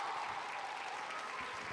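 Audience at a Spanish anime and manga convention stage show applauding, a dense steady wash of clapping lasting throughout, fairly loud and close.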